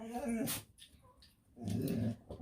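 Dogs whimpering and growling indoors, with two louder bursts of low growling and whining separated by a quieter gap.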